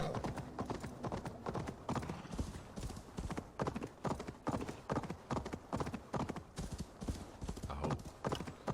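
Horse hooves clip-clop in a steady, regular rhythm of close, distinct strikes throughout, a horse in the video game Assassin's Creed Valhalla, with faint background game ambience.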